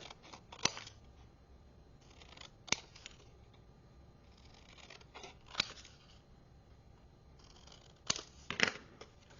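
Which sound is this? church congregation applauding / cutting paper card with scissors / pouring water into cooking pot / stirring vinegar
cutting paper card with scissors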